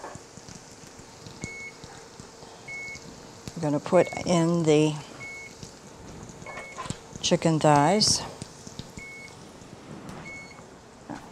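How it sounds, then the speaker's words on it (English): A short electronic beep repeats at regular intervals, faint and steady, while people talk in between. "What's beeping?"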